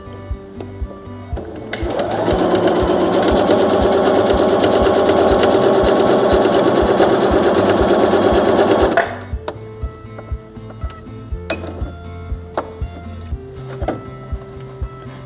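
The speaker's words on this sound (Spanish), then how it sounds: "Creo que tengo la máquina con un zigzag muy ancho." A sewing machine runs a zigzag seam on fabric for a circular skirt, whirring steadily and loudly for about seven seconds before stopping, with a few soft handling knocks and clicks before and after.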